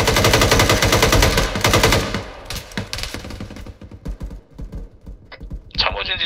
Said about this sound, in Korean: 제압 사격 하여보라